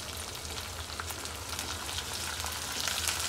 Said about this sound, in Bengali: এখন আমি ভালো মতো ভেজে নিব